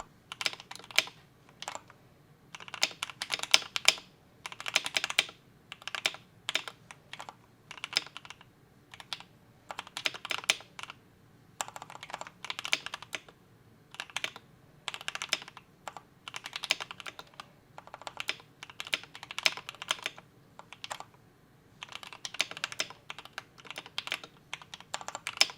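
Typing on a KBD67 Lite mechanical keyboard fitted with pre-lubed Ink Black switches: a steady, fairly quiet flurry of keystrokes in bursts with brief pauses, close up and with no voices.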